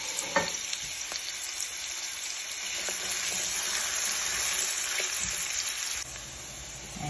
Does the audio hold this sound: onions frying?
yes